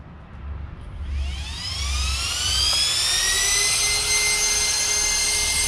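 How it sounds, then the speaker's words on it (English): A 12s Outcast RC car motor fitted with Typhoon fans spools up into a rising, jet-turbine-like whine, pitch climbing steadily before settling into a loud, sustained high scream. "Power up this jet turbine here."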